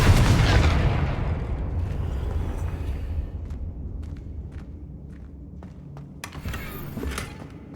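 In Hogwarts Legacy, a Confringo blast hits with a heavy burst at the start and trails off into a low, sustained rumble, with scattered short knocks and clatters near the end.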